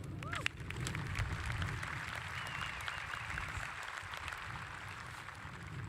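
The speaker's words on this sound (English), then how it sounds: "Let's give them another round of applause." Applause at a community college commencement ceremony follows a chamber singers' performance, a soft, distant wash of clapping from a large audience that holds steady throughout.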